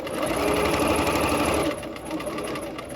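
A sewing machine stitches a seam through quilt fabric with a fast, steady, close-up needle chatter for nearly two seconds, then carries on more softly.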